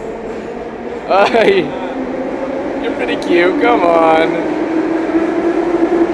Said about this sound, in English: so we're just, like, going on the metro